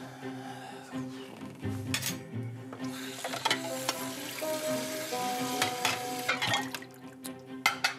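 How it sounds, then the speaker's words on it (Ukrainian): Dishes being washed by a man under a running tap: steady hiss of flowing water with scattered clinks of plates and cutlery, close and continuous throughout. "Подивіться, як він миє посуд."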